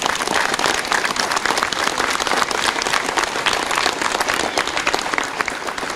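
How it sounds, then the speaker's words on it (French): Dense audience applause at an evening ceremony for a restored music kiosk in Romans-sur-Isère, many hands clapping continuously and loudly for the full stretch with no voices over it. "Et je vous demande de les applaudir."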